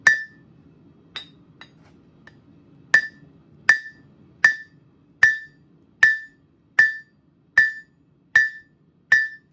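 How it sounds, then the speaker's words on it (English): Repeated sharp metallic strikes of a round-faced hammer on hot steel ringing out, a few scattered at first, then a steady rhythmic series of about eight evenly spaced blows. "we're going to use a round faced hammer, which I made. And then we're going to forge this down"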